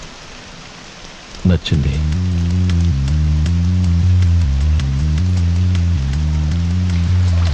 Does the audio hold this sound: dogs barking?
no